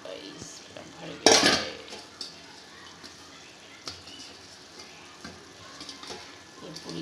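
Pasta for macaroni dropped into a pot of boiling water: one sharp splashing clatter near the start, then quieter bubbling with scattered light clinks.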